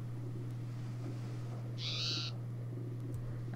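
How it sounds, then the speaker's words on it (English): A bird call from the MAtmos ambient sound mod in the Minecraft video game: a single short hooting call rising briefly out of a steady low background hum. "this mod adds more sounds into the game. So as you can hear, there's birds."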